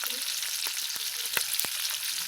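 Onion and capsicum fry in a pan with a steady, close sizzle, broken by a few sharp stirring clicks and scrapes. No voices are heard.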